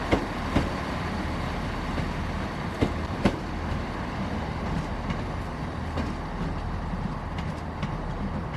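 Inside an East Midlands Railway Class 170 diesel unit in motion, a steady low rumble of running gear fills the cabin, broken by occasional sharp clicks and clunks from the rails.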